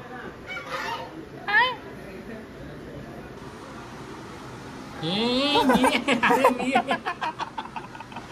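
Ducks floating on a river quack and honk in a lively burst, several calls overlapping close by, after a stretch of quieter background noise with a couple of earlier squawks.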